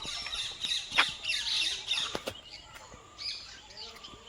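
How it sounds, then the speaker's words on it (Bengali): Various wild birds call in the forest of Bibhutibhushan wildlife sanctuary at Parmadan, with repeated sharp squawks and chirps, some close and loud, others fainter, overlapping in an irregular chorus. "জায়গা থেকে বিভিন্ন পাখির কোলাহল কিন্তু শুনতে পাচ্ছি"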